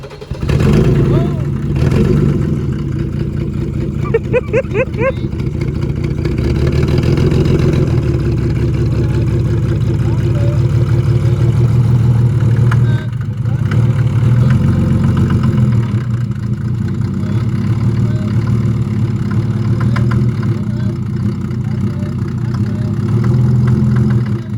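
A Mercedes 300D W124 with the OM606 diesel, left sitting for ten years, runs at a loud, steady, rough idle throughout, with people talking over it.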